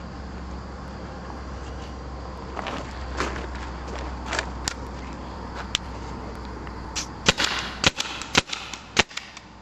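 A Tippmann TPX paintball pistol fires a quick run of sharp, loud pops near the end, over a steady low background hum, with softer clicks and rustles before.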